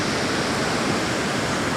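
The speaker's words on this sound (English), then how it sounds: "I like that rock where the water's coming over it there" Sea water washes steadily over a rock on the shore of Chiloé island in Chile, a dense, constant roar of surf and rushing water, loud and unbroken throughout.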